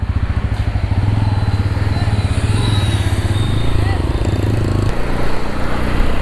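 A motorcycle ridden at night on the Delhi–Agra highway, its engine droning steadily and close with a continuous low rumble, wind and road noise throughout and trucks nearby.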